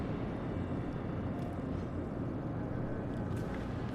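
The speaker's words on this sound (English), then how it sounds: "Keeping an eye on the airplanes there as they're coming over to us" Airplanes pass overhead in the naval battle game World of Warships Legends, heard as a steady, broad engine drone with deep rumble that holds at constant loudness for four seconds with no speech.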